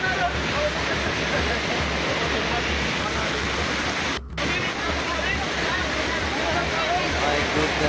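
Rushing floodwater roars continuously and loudly as it reaches a bridge during severe flooding in Samar, a dense steady torrent with a momentary dropout midway; voices are faintly present under the water.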